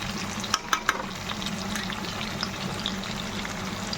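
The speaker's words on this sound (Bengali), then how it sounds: "মাংসের ঝোলটা দিয়ে দিচ্ছি এখানে, একটু কষা হচ্ছে" Mutton gravy poured into a pan of chilli chicken frying, a soft steady sizzle with a few sharp clinks of a spoon early on, fairly quiet and close.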